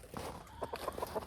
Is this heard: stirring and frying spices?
no